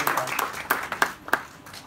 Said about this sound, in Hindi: एक बार ताली बजाओ, थोड़ा लगना चाहिए